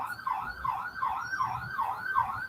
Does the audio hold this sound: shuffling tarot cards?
no